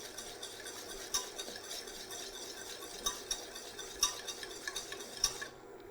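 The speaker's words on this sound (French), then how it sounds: "Donc là, j'hésite pas à mélanger." Butter and sugar stirred in a pan for a butter caramel, a soft steady scraping with several sharp metallic clinks of the utensil against the pan, close and fairly quiet throughout.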